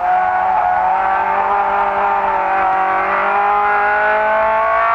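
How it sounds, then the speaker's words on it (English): A 1971 Ford Escort RS 1600 race car brakes hard for a tight right-hander at Jarama, heard loudly from on board, the engine note shifting and falling under braking before rising again as it accelerates. "Brakes very hard for this tight right-hander."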